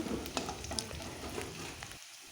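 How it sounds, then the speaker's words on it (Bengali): Sliced onions and green chillies fry in oil in a wok as they are stirred, giving a soft sizzle broken by light scraping taps before the sound drops away at the end. "প্রথমে আমি কড়াইতে তেল দিয়ে পেঁয়াজ এবং কাঁচামরিচ ফালি দিয়ে দিয়েছি। এগুলো আমি ভালো করে ভাজার জন্য নেড়ে নিচ্ছি"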